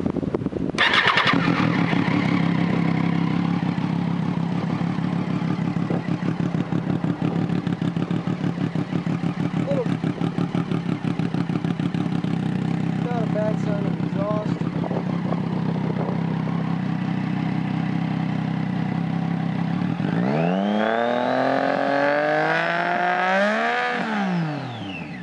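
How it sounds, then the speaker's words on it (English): A 2009 Triumph Daytona 675 motorcycle with Akrapovic headers and a Jardine slip-on exhaust idles loudly and steadily up close, then gets a few sharp revs near the end. "This is my 2009 Daytona Triumph. Jardine exhaust with akrapovic headers."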